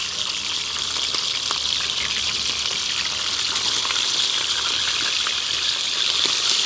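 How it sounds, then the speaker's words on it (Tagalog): Food frying in a pan gives a steady, close, full sizzle with crackling pops throughout, with no talking. "Wow, ganda ng pagka-prito ah."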